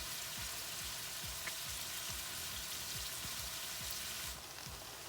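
Minced garlic and green onion fry in sesame oil in a vegetable pan, giving a steady, close hiss of sizzling with soft low bumps from stirring, and no voices.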